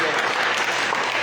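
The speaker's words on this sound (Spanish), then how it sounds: "Dale un aplauso al Señor." A church congregation applauding during a Spanish-language sermon, a dense, steady wash of clapping from many hands throughout the short moment, with a voice faintly present beneath it.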